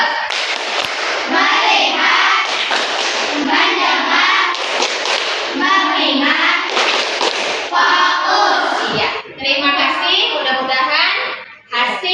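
A primary school class performs the rhythmic 'tepuk fokus' chant, with children's voices loudly chanting in unison and bursts of patterned hand clapping repeating throughout, close and sustained with brief pauses.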